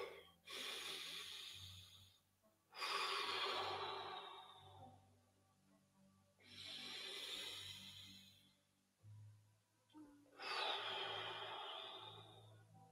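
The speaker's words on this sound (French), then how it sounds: "on commence à prendre conscience de sa respiration" Slow, deep breathing during morning tai chi practice, four long audible breaths close to the microphone with quiet pauses between them.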